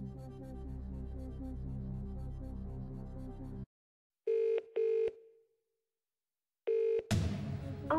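Telephone dialing for phone-a-friend in a Who Wants to Be a Millionaire DVD quiz game: music cuts out, then several short electronic dial tones beep in sequence, one trailing away, followed by another tone and a burst of noise.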